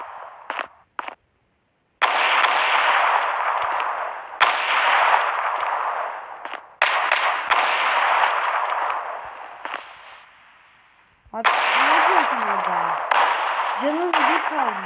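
Sniper rifle shots and other gunfire crack out in bursts during a Zula mobile match, sharp loud reports separated by gaps, with a ricochet-like whine near the end.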